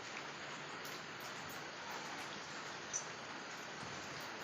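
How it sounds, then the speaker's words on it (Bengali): Steady rain falls outside onto a broken, battered tin roof, a faint, even hiss with no speech and one small sharp tick near the end. "আর বাইরে এমন বৃষ্টি লেগেছে, বৃষ্টি থামার নামই নেই।"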